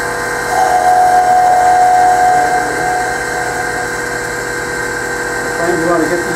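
A wood lathe spins steadily while a gouge rides the bevel, turning a Christmas ornament; a continuous close motor whir with a rising cutting tone, alone without talk.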